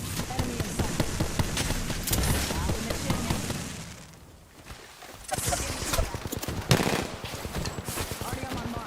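Video game gunfire in rapid bursts, dense and loud, dropping briefly midway before resuming with sharp shots, with voices talking over the combat.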